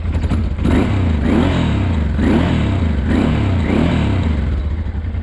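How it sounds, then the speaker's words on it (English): A motorcycle engine rebuilt from bottom end to top end runs loud and close with the choke pulled out, its steady idle throbbing in an even pulsing rhythm. "Nice sounding. Totally rebuilt engine."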